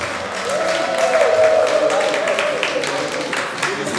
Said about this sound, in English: Shall we give them a big hand of applause?